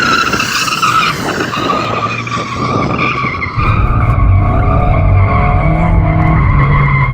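Porsche Cayman GTS with a mid-mounted engine showboating, tyres squealing loudly and continuously as the car slides, with the engine note rising underneath and a deeper engine drone taking over in the second half.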